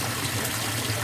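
Warm water pouring into a washing machine drum filling with detergent pods: a steady, close, hissing trickle and gush of running water over a brief moment, with no voices.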